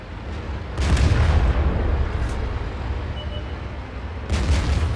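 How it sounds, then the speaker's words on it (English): Tank cannon fire in the World of Tanks video game: heavy booming shots over a constant rumbling engine and battle background, with a louder burst near the start and another near the end. "Unfortunately, the first shot went into the gun barrel, but the rest of the shot connects"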